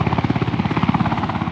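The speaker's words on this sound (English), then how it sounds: "We're delivering them with the UH-1 Black Hawk helicopters to the incident" UH-1 Black Hawk helicopters ferrying sandbags during the 2011 Missouri River flood, with loud rapid rotor chop pulsing in a steady rhythm, close and alone.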